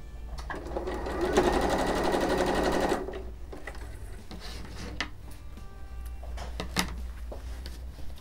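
A sewing machine stitching patchwork tablecloth fabric runs in a fast, rattling burst of about three seconds, then stops, leaving quiet handling and fabric rustles over a low hum.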